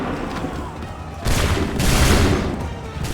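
Musket volley from soldiers in the Assassin's Creed 3 video game: a sudden broad blast of massed gunfire that swells into a rolling, loud crackle lasting over a second, with a faint voice in the background.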